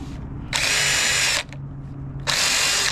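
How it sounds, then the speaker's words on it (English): A drill-mounted wire wheel scrubs brake caliper bolts from a Toyota RAV4 in two loud, close bursts of high whirring, separated by a short pause. "wire wheel these bolts a little bit so we can use thread locker"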